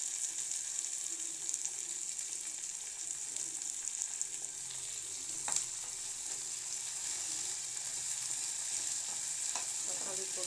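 Tomatoes are sautéed in a pan for an egg and capsicum gravy, giving a soft, even frying hiss that runs throughout, with a faint scrape of stirring now and then.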